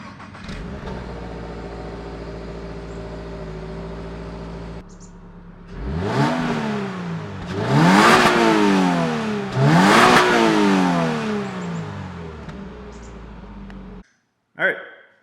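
A stock-exhaust Toyota GR86 idles steadily, then revs hard several times in rising and falling sweeps, each blip loud and close, ending with a brief silence and a sharp pop-like burst.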